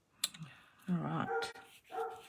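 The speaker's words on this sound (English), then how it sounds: "I'm so sorry if you can hear my dog." A pet dog nearby barking and whining in short bursts, a few rough yips followed by longer strained vocal cries in a quiet indoor room.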